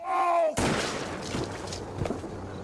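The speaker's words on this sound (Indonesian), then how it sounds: "Mike berhasil mengambil senjata, lalu menembak kepala Owen." A single loud gunshot in a horror film cracks out suddenly after a brief tonal sound, followed by a noisy reverberant tail and smaller impacts.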